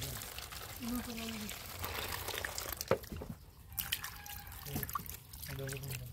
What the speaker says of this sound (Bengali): একটা একটা করে পাতা ধুয়ে নিব।